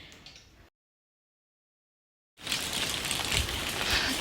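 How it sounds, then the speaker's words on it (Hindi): Rain falling in a hilly Himachal village during a downpour, a dense steady hiss broken by a near-silent gap of about two seconds before resuming strongly. "यहाँ देखिए अभी भी बारिश हो रही है"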